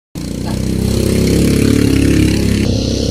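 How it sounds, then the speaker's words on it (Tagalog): Motorcycle engines hum and rev loudly and continuously close by on a busy Tabo market day, a dense steady drone of several bikes passing with a brief dip near the end. "Ang ingay dito sa amin mga kalangga kasi maraming motor"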